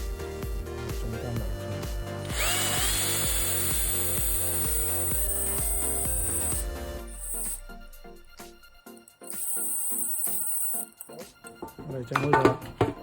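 A power drill whirs steadily for several seconds while driving a screw into a moka coffee pot, then stops into a series of short clicks, knocks and handling noises close by.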